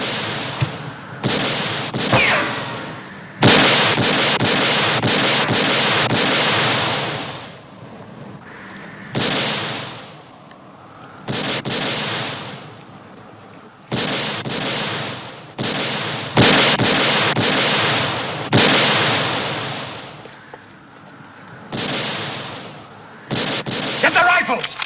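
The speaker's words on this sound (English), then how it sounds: "You gonna let somebody shoot at you and not do anything about it?" Gunfire in a western TV show shootout: repeated sharp rifle and pistol shots in bursts with echoing tails, loud and close, with shouting voices between volleys.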